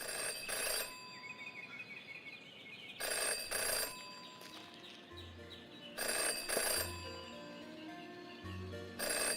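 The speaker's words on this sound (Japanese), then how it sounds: "Jenny had learned never to ignore a ringing phone" In the video game Jenny LeClue, a telephone rings in repeated bursts, each ring a bright trilling bell separated by pauses, with a soft low tone between rings.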